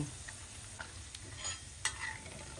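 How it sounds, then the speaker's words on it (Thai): Pork skin frying in very hot oil for crackling, a soft steady sizzle with scattered small pops and clicks, one sharper crack near the end, quiet and with no talk. "พอน้ำมันร้อนจัดๆนะคะ ตัวหนังหมูเขาก็เริ่มแตกแล้วก็กรอบขึ้นเลย"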